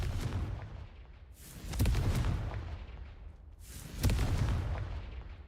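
Two booming fire-blast spells in Hogwarts Legacy, each a loud deep burst with a crackling, rumbling tail, about two seconds apart and heard alone without talk.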